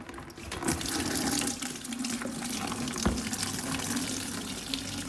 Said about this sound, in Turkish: Aracımızın içerisindeki antifrizi boşaltıyoruz. Zaten radyatöre giren şurada su hortumu var arkadaşlar.